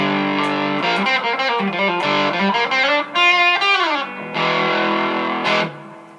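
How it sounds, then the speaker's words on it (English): Fuzz setting on a BOSS ME-20 multi-effects guitar pedal, thick saturated electric guitar riffs with sustained notes and a descending bend, loud and continuous throughout. "Yeah, 5 is fuzz"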